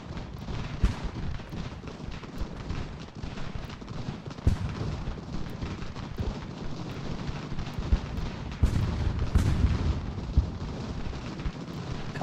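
Ultimate General: American Revolution battle: continuous musket and cannon fire rolls on throughout, with dense crackling volleys, periodic heavier booms and a steady rumbling din.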